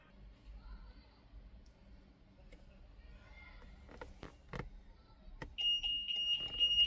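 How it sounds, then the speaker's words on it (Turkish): Car alarm motion sensor beeping, a steady run of repeated high electronic beeps starting near the end after faint clicks and handling noises, fairly close. "bizim sensörümüz bizi algılayacak ve ötmeye başlayacak"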